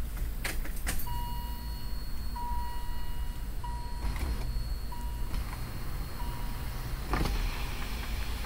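Aftermarket G6 panoramic sunroof closing on a box Chevy Caprice LS Brougham: a steady electric motor whine in short repeated runs with a thin tonal hum, plus a few clicks and clunks, close up over engine idle.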